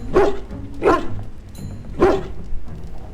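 A hound barks in Dragon Age: Origins, giving three sharp, loud barks spaced unevenly across a few seconds, with a quiet game ambience between them.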